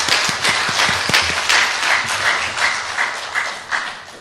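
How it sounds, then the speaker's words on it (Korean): A church congregation breaks into dense, sustained applause honoring God, the clapping steady and fairly loud for the full stretch with no talk over it. "박수를 드리겠습니다."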